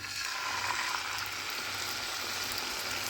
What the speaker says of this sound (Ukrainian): Його потрібно обсмажити до готовності.